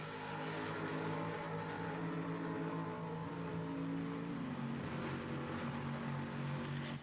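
Mustang and Javelin race cars in the 1970 Trans Am at Watkins Glen roar continuously in a close, loud engine drone with steady harmonic tones that shift pitch slightly as they charge around the track, with no talking.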